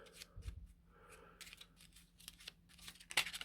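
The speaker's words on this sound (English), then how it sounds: "Crappy shuffle." Deck of cards being shuffled for a game of Eldritch Horror at a tabletop, a quick run of crisp riffling clicks and card slaps with a sharper snap near the end, close and fairly quiet, with no talking.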